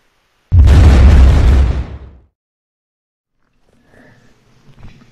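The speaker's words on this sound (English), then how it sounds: "Hey Brody, I heard an explosion." A single loud boom bursts in the Unturned video game, a close, heavy blast that rumbles for over a second and then decays into near silence with faint scattered noises afterward.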